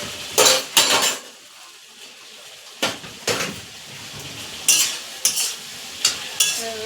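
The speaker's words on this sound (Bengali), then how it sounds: "দিয়ে খানিক্ষণ একটু কষাবো যাতে সয়াবিনের মধ্যে একটু তেল মশলাটা ঢুকে যায়" Soybean curry being stirred in oil with spices, a utensil scraping the pan in repeated separate strokes over a soft background sizzle, close and clear with no talking.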